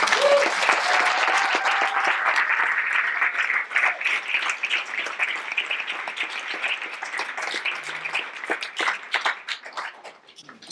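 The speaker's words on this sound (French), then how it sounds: "Elles méritent nos applaudissements" Audience applause at a talk about women in Congo, a dense sustained clapping from a crowd that holds steady for the whole stretch before thinning slightly at the end.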